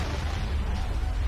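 A short burst of heavy artillery fire from a German invasion of Russia in the wartime strategy game Men of War Assault Squad 2 thuds on as a dense, loud, rumbling barrage with no clear breaks.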